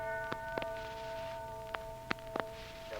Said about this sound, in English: When you hear the gong sound, the time will be 10 seconds past 2 a.m.